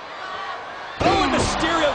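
A big kick lands with a sharp slam in a WWE SmackDown wrestling match between Rey Mysterio and Drew McIntyre, heard as one sudden impact partway through, under an excited commentator and crowd noise.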